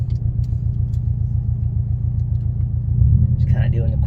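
A 2017 Subaru STI with new fuel lines and small bolt-ons cruises on a test run, its low engine rumble steady from the cabin and swelling slightly near the end, with faint rattles from tools in the back.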